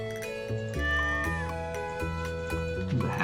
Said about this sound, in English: He's a happy kitty, all curled up in a ball there.